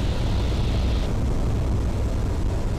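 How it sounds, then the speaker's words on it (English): Inside the cockpit of a Eurofox light aircraft, the engine drones loudly and continuously as power is increased, a dense broadband roar with no voices. "I'm going to use a little bit of power, so increase the power pitch up to maintain the speed."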